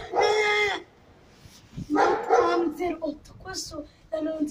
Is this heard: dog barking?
yes